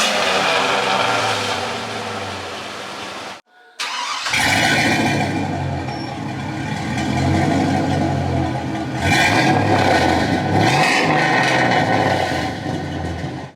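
Chevrolet Silverado fitted with a FlowMaster 10 series muffler idling close by, a steady loud rumbling exhaust drone that cuts out briefly, then returns with slight surges in level.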